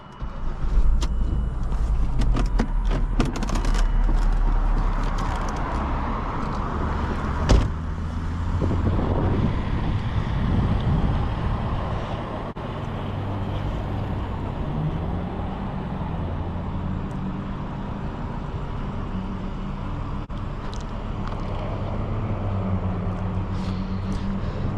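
A 2011 Volvo S40 T5 engine cranks and catches with a burst of noise, then settles into a steady, rumbling idle nearby.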